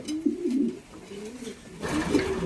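Breeding pigeons of several fancy breeds in a loft give repeated low, throaty coos from close by, rising and falling in short phrases, with a second bird joining near the end.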